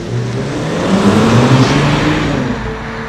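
Genesis G70 3.3T sedan with an 8-speed automatic driving on the road, a steady engine drone and broadband road and tire noise holding at moderate loudness from a cabin perspective, with harmonic engine tones rising slightly mid-way.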